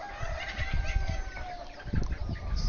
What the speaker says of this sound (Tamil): இது வந்து ஆஸ்ட்ரலாப்னு ஒரு பிரீடுங்க. இது வேற ஒரு நாட்டுக்கோழி இனம்.